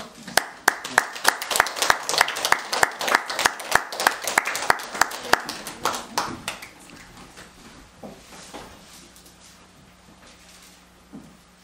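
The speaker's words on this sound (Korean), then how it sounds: "나오실 때 박수로 환영하겠습니다" Church congregation at a Sunday service claps in welcome for a missionary from Kenya, a dense burst of sharp hand claps for about six seconds that thins out and fades into quiet room tone.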